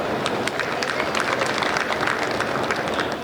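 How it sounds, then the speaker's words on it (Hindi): A live audience at a Hindi shayari and poetry performance claps in a dense, steady burst of applause that fills the room for a few seconds, with no voices rising above it. "ये बात ताली बजाने की नहीं थी।"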